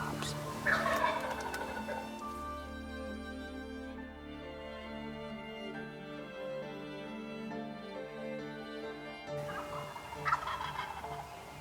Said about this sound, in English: we started hearing the turkeys and got excited